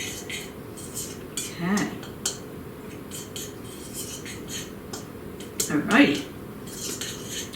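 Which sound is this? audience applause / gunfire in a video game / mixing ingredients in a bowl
mixing ingredients in a bowl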